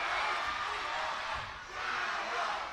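Basketball arena crowd cheering and roaring steadily throughout a close Morocco versus China men's game, a dense wash of voices that dips briefly in the middle before swelling again.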